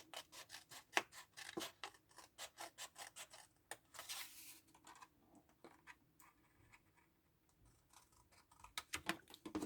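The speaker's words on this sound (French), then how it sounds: "Donc, je prends mon ciseau et je coupe." Scissors snip steadily through fabric, a close run of quick crisp cuts that pauses briefly before a few more snips at the end, with no talk.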